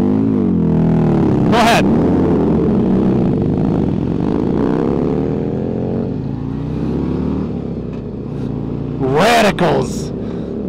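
A 2024 Harley-Davidson Road Glide motorcycle rumbles loud and close with a steady low V-twin burble throughout, while voices talk over it.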